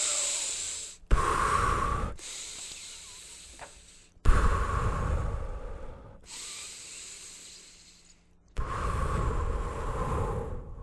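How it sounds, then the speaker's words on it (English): A person demonstrates quick, anxious breathing, with loud, close, hissing inhales and exhales in alternating bursts of about two seconds, separated by brief breaks, and no speech. "So breathe quick."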